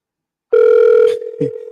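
A telephone ring tone sounds while a call is placed back to someone, a steady electronic tone lasting about half a second before a brief break and a softer continuing tone, with no talk over it.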